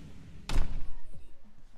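Heavy mansion doors close with a single solid thud up close, followed by a softer knock and a brief rumble.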